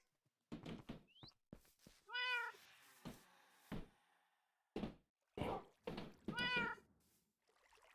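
A domestic cat meows twice, drawn-out calls with a wavering pitch, set among scattered thumps and knocks close by.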